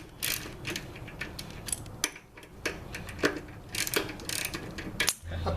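Fasteners on the front wheel slider caps of a Harley-Davidson Softail Deluxe are worked loose, giving a string of close, faint metallic clicks and ratcheting ticks in short irregular bursts with pauses between them.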